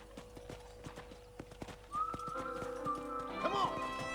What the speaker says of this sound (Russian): Садись на новую лошадь.